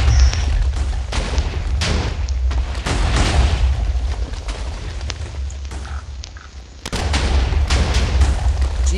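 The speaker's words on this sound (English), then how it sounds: "explosions everywhere" Repeated TNT explosions in a Minecraft-style block game, a dense chain of loud booms and bursts that continues almost nonstop, with a brief lull before another heavy blast.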